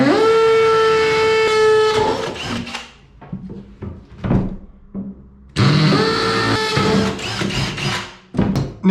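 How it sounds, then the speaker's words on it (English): Loud, harsh hammer drill drilling into a bathroom wall in two bursts, with a few knocks and clatters in the quieter gap between them. "And now I'm going to follow through using the hammer drill."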